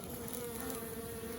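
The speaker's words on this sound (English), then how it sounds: "They're pretty little bees." Wild bees swarming from a cedar tree make a steady, dense buzzing hum, close and continuous with no voices.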